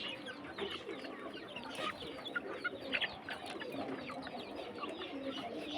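Several chickens about two and a half months old cluck and chatter close by, a busy overlapping flock sound with soft cooing mixed in, steady throughout.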